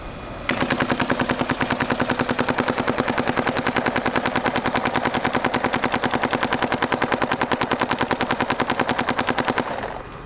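A paintball marker firing rapidly through a carbon barrel, a dense, steady stream of sharp pops for about nine seconds, loud and close, then stopping abruptly.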